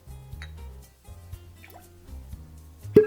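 Simple syrup pours into a cocktail mixing tin for a Beachcomber's Punch, giving a soft, close liquid trickle with gentle drips, ending in a sharper clink.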